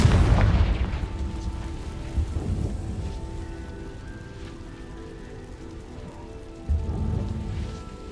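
A Confringo fire spell explodes in the Hogwarts Legacy video game, a loud deep boom at the start that rolls into a long rumbling tail, with a second thudding burst near the end.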